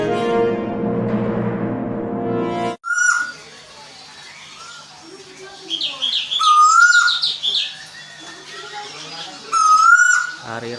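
A Tuwu bird gives its call: after a harsh, buzzy opening passage, clear whistled notes and chirps repeat at intervals, near and moderately loud, alone without voices.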